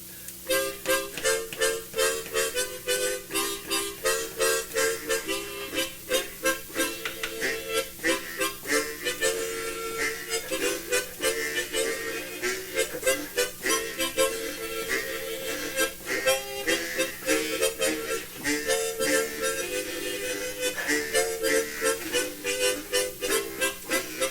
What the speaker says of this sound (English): Another harmonica that maybe folks have seen, maybe you haven't.